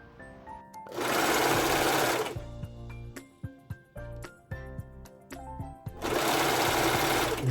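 Sewing machine stitching around the neckline of a women's raglan-sleeve polo shirt, loud steady whirring runs in two long bursts at the start and end with short stop-start stitches and clicks between.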